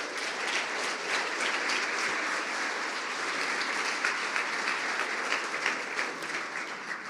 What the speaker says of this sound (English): venture mentors stand up so we can give you all a round of applause